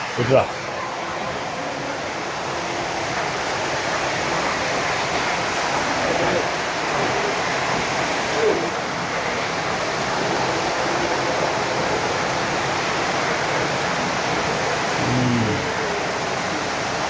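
A cleaning pipe sprays water across temple premises, giving a steady, close hiss and rush that runs unbroken throughout, with a few faint knocks and thumps.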